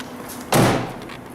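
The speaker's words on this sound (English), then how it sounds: "Passenger side door latches into the driver's side door." The rear door of a Coachmen Galleria van swung shut, one sharp, loud slam close by with a brief rattling decay, and no voices.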